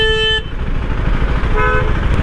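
Busy Mumbai street traffic with engines droning beneath two clear car horn toots, one long at the start and a shorter one a second later.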